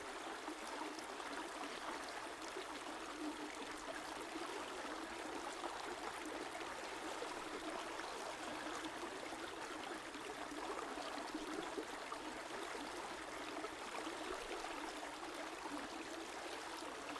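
A river stream flows over stones, a soft, steady, faint rushing wash of water with no other sounds.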